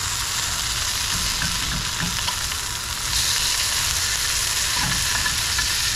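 Breakfast fries in a pan with a steady, close, loud sizzle and crackle, plus a few soft stirring scrapes, without any talking.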